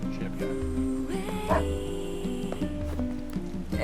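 A dog in the video game NieR Replicant barks a few short yips over steady game music with sustained tonal notes, fairly faint in the mix.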